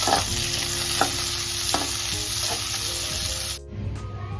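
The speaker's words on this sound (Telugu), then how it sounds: "వేసుకొని వేయించాలి వాటిని బాగా బ్రౌన్ కలర్లో వచ్చే వరకు వేయించుకోవాలండి" Onions crackle and sizzle loudly in a pan, with a few scrapes of stirring, before the frying noise abruptly drops away near the end.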